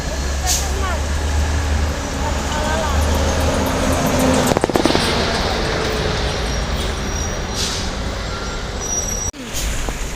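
Bus with an underfloor luggage hold, yellow-plated, passing on a road in Palembang, a loud rumbling engine and road roar close by with a sharp hiss of air brakes, amid steady traffic noise and people talking.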